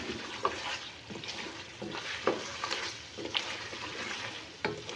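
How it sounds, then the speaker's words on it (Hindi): Masala-stuffed green chillies fry in hot ghee in a pan for achar gosht, a continuous close sizzle broken by several spoon-stirring knocks and scrapes, with no voices. "अब मैं ये मिर्च को इस घी के अंदर ना भून लूँगी।"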